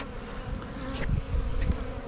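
Honey bees buzz close by in a steady, droning hum around candy in a hive, with individual bees whining past at shifting pitch.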